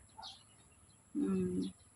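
Birds call faintly outdoors in the countryside after overnight rain, with a couple of brief high chirps early on and a louder, lower fowl-like call near the end.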